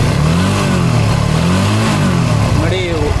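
TVS Apache RTR 180 motorcycle engine after a carburettor diaphragm change, revving close and loud with rising and falling pitch swells and a sharper blip near the end.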